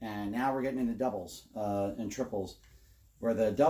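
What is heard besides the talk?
None of the usual background noises is heard.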